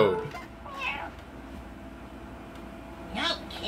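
The cartoon cat Mr. Kitty from South Park lets out two whiny meows, one near the start and another near the end, loud and close over faint background.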